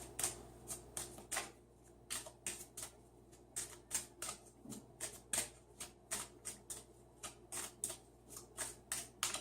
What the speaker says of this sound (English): let me just shuffle the cards up here.